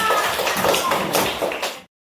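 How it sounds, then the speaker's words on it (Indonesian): A classroom group claps briefly in quick, scattered patters for under two seconds, with a voice audible over it, then the sound cuts off abruptly. "tepuk tangan untuk semuanya"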